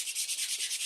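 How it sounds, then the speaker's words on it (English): Sandpaper rubbed back and forth over decoupage paper to flatten wrinkles, a steady soft hiss pulsing in quick regular strokes, close and alone. "sanding paper, rub it on there, and you're good to go"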